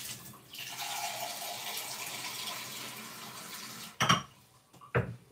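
About 1.5 cups of water poured into a pot with turmeric, a close steady gush for several seconds followed by two short clattering knocks of the pot, no talk.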